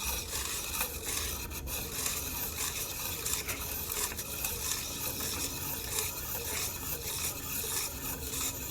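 A hand file rasps along the cut edge of a top piston ring from a 1985 Ford SVO engine, repeated quick strokes in a steady rhythm, close and moderately quiet, with no talking.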